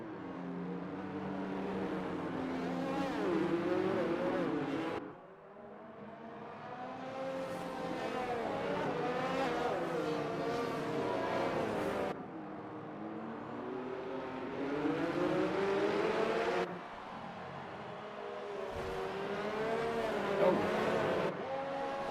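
Formula 1 cars in a PS4 racing game, a field bunched behind the safety car on the Baku street circuit, their engines droning and rising and falling in pitch in long sustained passes.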